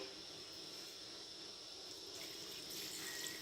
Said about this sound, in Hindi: अब हम यहाँ पर पानी ऐड करेंगे